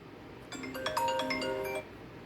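A new mobile phone's ringtone plays a short, bright chime melody of several bell-like notes lasting just over a second, fairly quiet against a faint room background.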